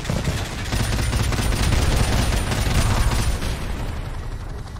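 A Call of Duty gunship gives air support with sustained machine gun fire. The bursts run rapid and continuous, merging into a loud, dense rattle of shots and blasts that holds steady throughout.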